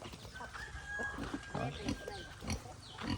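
Free-range pigs grunting on a farm, with repeated close, low grunts and chickens clucking among them while someone talks over the animals.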